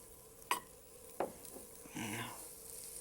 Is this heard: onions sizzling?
yes